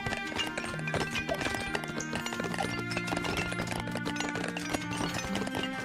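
Horses clip-clopping and galloping in the strategy game 0 A.D., a steady layered hoof rhythm with occasional whinnies over a busy battle and music mix, with no one talking.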